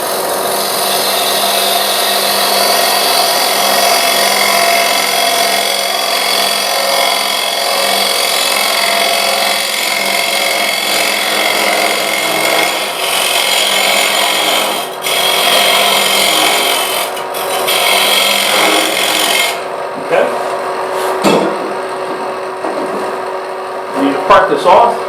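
Wood lathe turning a hollowed wooden vessel as it is parted off: a steady, loud scraping cut with a rasping texture runs continuously, then breaks into short, uneven tool contacts near the end.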